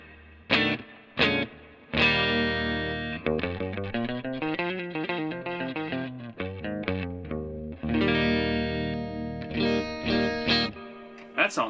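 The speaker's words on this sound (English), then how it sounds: "I have the pedalpcb.com spirit box, which is a reverb, into Tweed Deluxe" A Stratocaster electric guitar plays through a homemade spirit box reverb pedal into a Tweed Deluxe amp, ringing out loud chords and single-note runs with lush reverb tails and sustained notes.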